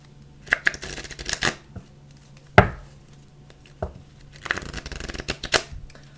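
Stiff tarot cards being shuffled give close, crisp riffles and slaps in several quick bursts, with a sharp snap midway and no talking.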